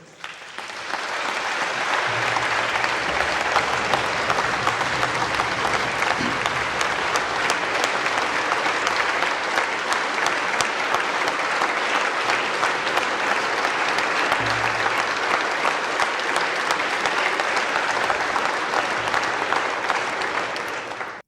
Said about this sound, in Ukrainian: Звернули увагу на бурхливі оплески